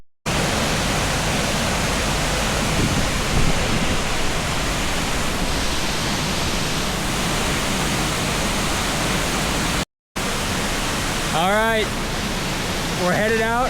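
Lick Creek Falls in Kentucky roars as a dense, steady wash of falling water, close and loud throughout, with a brief cut near the end and a voice heard just after.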